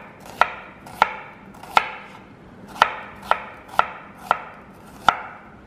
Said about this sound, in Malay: Okey, untuk bawang besar kita akan hiris.